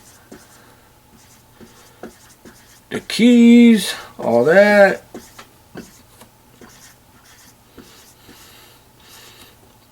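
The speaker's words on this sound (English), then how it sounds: "trying to draw a laptop here" A pen sketches a laptop on paper, giving soft scratchy strokes and light taps scattered through the moment, while a person talks loudly over part of it.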